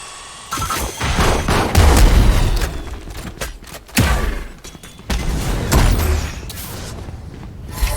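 Grenade explosions and gunfire in the Valorant video game, several loud booming blasts with rumbling tails and sharp reports in between, close and heavy.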